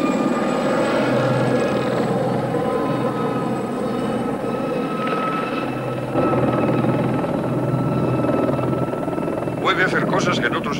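Blue Thunder, an advanced police helicopter, flying with a steady loud rotor and turbine drone throughout, overlaid by constant speech, with brief higher-pitched whine bursts near the end.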